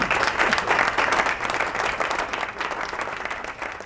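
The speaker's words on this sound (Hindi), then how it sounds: "तालियां हो जाए जी" A studio audience on a Ramadan TV quiz show breaks into applause after a correct answer, a loud, close, crackling roar of many clapping hands that holds steady for several seconds.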